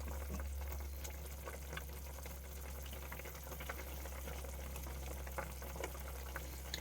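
Dumplings simmer in boiling water in a home kitchen, a steady low bubbling and hiss with faint scattered pops, quiet and continuous with no talk.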